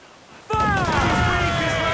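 Heavy ship cannons firing in a naval battle in Assassin's Creed Black Flag, a loud booming blast arriving suddenly after a quiet moment and rumbling on under ringing, shouted crew noise.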